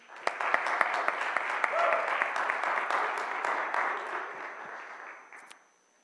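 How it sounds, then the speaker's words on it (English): An audience gives a presenter at a talk a round of applause: many hands clapping in a full, steady burst with a few sharp individual claps standing out, then fading to silence. "let's start by giving her a big round of applause"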